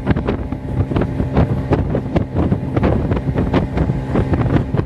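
Motorboat ride on Massanjore Dam in Jharkhand, the engine droning steadily up close with water slapping and wind buffeting the microphone throughout, no talking.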